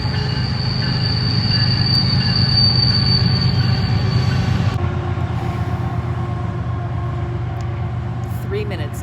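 A loud freight train rolls past up close near the Great Divide route to Whitefish, Montana, its continuous heavy rumble overlaid with wheel squeal and clatter, easing slightly partway through.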